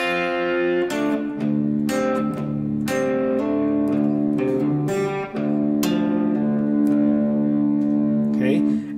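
Guitar plays a riff slowly, measures one to three, with sustained, effects-laden notes and repeated string bends, steady and close.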